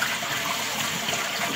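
Water pours steadily through an upside-down salad spinner bowl used as a strainer while rinsing Caesar salad greens in a home kitchen, a continuous close splashing rush with no pauses.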